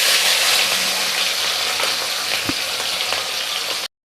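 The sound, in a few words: rohu fish frying in oil in a pan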